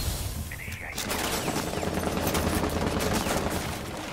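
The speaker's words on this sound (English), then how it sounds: "They're shooting at me." Sustained automatic gunfire in Rainbow Six Siege, with a dense rattle of rapid shots starting about one second in and continuing loud and close to the end, with a voice in the background.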